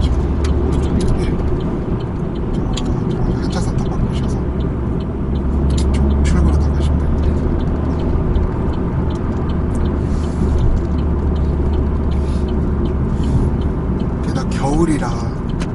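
A Chevrolet Aveo with a manual gearbox cruises at speed, its steady road roar and heavy wind noise droning throughout while people talk inside the cabin.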